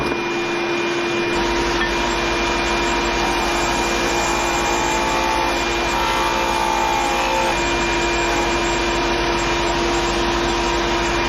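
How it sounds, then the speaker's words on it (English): A sander runs steadily on wooden plank repair lozenges for a boat, a loud, continuous whining drone that holds unbroken throughout with a faint shift partway. "Set up the sander, and we'll get to that."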